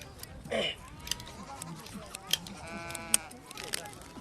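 Sheep bleat in a Mongol camp where women tend the flock, yurts and carts, giving faint, scattered calls over a quiet outdoor background with a voice speaking.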